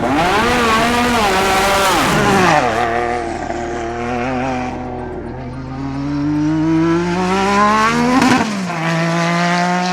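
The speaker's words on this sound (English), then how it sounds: "Today we've been shaking down the Williams FW11 with a Honda turbo engine" A Williams FW11 Formula 1 car with a Honda turbo engine roars past close and loud, its pitch rising and dropping through gear changes, a brief lull, then building again to a sharp peak before cutting away.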